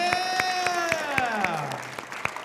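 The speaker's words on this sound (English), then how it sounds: "Can we give a big round of applause for our judges?" Audience members at a Nailed It! baking competition applaud the judges with sharp, evenly spaced claps, while a loud, falling voiced whoop rings out over the clapping.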